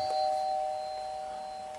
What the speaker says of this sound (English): Doorbell rings whenever you have something going on.